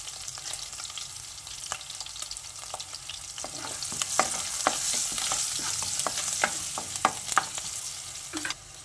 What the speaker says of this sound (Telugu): ఇప్పుడు మిరపకాయలు వేసి బాగా వేయించి